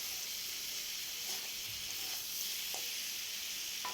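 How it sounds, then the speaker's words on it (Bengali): Ginger-garlic paste with salt, turmeric, Kashmiri chilli, cumin and coriander powders fries in a pan, giving a steady hissing sizzle with a few soft stirring scrapes. "নাড়াচাড়া করব"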